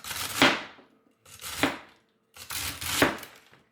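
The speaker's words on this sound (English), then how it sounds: "we're going to cut the celery up." A knife chops organic celery hearts on a cutting board in three distinct, evenly spaced strokes, each a crisp close-up crunch that fades quickly into quiet.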